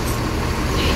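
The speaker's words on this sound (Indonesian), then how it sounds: "Busnya banyak sekali nih." Rosalia Indah buses and other heavy vehicles rumble along a busy road, a brief burst of continuous loud traffic roar with engine drone.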